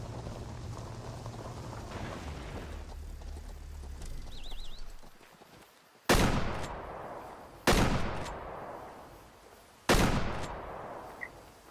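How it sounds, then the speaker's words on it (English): Three loud, sharp shotgun blasts are fired at an animal in Way Of The Hunter, spaced a couple of seconds apart, and each one rings off into a decaying tail. A low vehicle rumble and hiss come first. "We're gonna drive up really close and see if we can get it with a shotgun."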